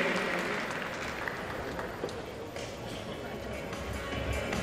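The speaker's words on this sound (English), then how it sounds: "It's a big cheer for Dave, the Derny driver." A crowd at a junior world championships track cycling session cheers and applauds for the Derny driver, a steady wash of clapping with some voices mixed in.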